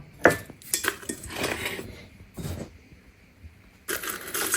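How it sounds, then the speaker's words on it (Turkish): Dried hibiscus, rosehip and other winter tea ingredients tipped into a pot: several clattering, rattling bursts of hard bits hitting metal, separated by short quiet gaps, with a louder final tumble at the end. "Şöyle hepsini hop, döküyorum içine."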